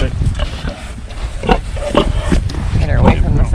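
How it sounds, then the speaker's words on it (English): A big heritage breed sow grunts and oinks in a series of low, close calls in a pen by a fence, with someone talking to her over the noise. "Pigs are extremely talkative and very social"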